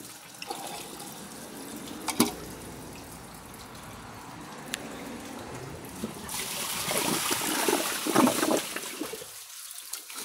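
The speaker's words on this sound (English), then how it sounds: "Now I'll drain the rest of the water from the tank." Water drains and trickles out of a Kohler toilet tank, a steady close gurgling flow that swells louder near the end before cutting off to quiet.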